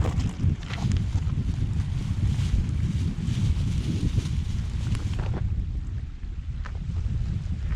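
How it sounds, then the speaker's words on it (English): Strong wind buffeting the microphone aboard a sailboat off Scotland on a rainy day, a steady loud low roar throughout that eases slightly near the end. "It's a bit windy."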